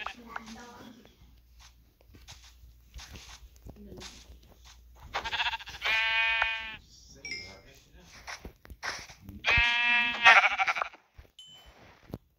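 Sheep bleat in a video game, two loud, clear calls standing out among softer game sounds and a voice that speaks at the start.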